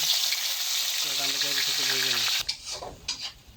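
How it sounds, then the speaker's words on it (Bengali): Chicken pieces fry alongside fried onions in a pan for a spicy country-chicken roast, giving a loud continuous sizzle that breaks into scraping stirs near the end, with a voice briefly speaking underneath. "এখন আমরা এই পাশে চিকেনটা একটু ভেজে নিব"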